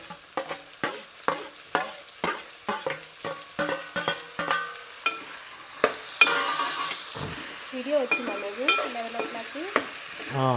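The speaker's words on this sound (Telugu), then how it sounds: "అల్ల వెల్లిపాయలు మగ్గుతున్నాయి కదా" Ginger and garlic sauté in a pan, with a steady run of rhythmic stirring scrapes, about two per second at first, giving way to a continuous soft sizzle with a few faint clinks, heard close up.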